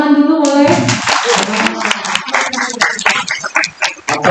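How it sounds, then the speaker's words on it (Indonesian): An audience at a keto fitness Q&A session with Ade Rai claps hands in a short burst of fairly close, scattered clapping mixed with voices and a musical tone at the start. "Tepuk tangan dulu boleh?"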